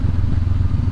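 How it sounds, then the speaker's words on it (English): A Honda CB500X engine-braking on a steep descent, giving a brief, close, loud low engine drone with a slight pulsing clatter. "But right now I'm using all the engine braking right now"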